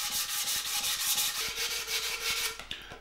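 Sandpaper is rubbed by hand to strip paint from a carbon fiber frame, making a steady, rhythmic scratching of quick close strokes that eases off at the end, with no voices.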